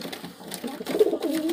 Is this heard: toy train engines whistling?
no